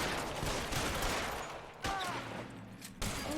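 Rapid bursts of gunfire ring out in the crime game L.A. Noire during a rooftop shootout, dense and continuous with sharp onsets, with faint game dialogue mixed in.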